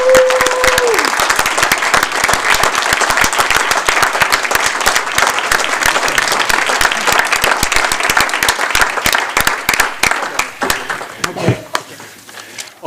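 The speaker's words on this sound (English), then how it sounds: "let's please join me in giving them a round of applause" A school board meeting audience gives a long, dense round of applause for students, with many hands clapping loudly and evenly before it tapers off near the end.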